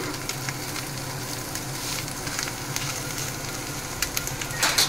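Fish and egg fry in a pan with a soft, steady sizzle at close range, a few brief scraping or clinking sounds near the end and no talking.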